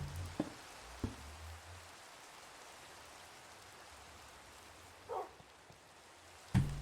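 Rain in the video game Minecraft patters softly and steadily, a faint, continuous hiss with a few brief thumps and clicks over it.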